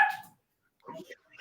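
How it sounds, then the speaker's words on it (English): A dog barks nearby, one loud sharp bark followed by a pause and then a rougher, muffled second bark, as if caught by a home microphone. "That was my dog."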